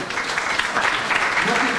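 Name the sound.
audience applauding at political evening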